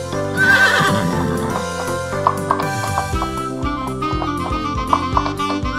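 A horse whinnies loudly near the start, followed by repeated sharp rhythmic sounds and tonal noises that continue steadily throughout.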